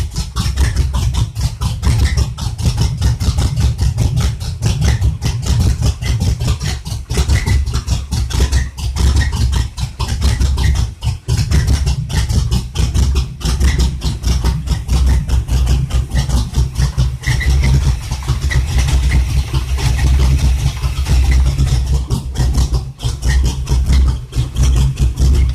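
A 1979 Chevy Monza with aftermarket mufflers idles in a garage. The engine gives a steady, close, low rumble with an even pulse that runs for the whole stretch, and no one speaks.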